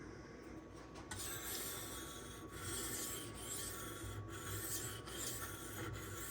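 A Benchmade 2551 Mini Reflex knife being sharpened on a Naniwa 400 whetstone: a continuous close, gritty rasping of steel on stone in long steady strokes, with brief pauses between passes and no talking.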